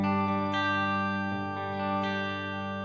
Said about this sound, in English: here's a similar thing you can do with the shimmer and the air reverb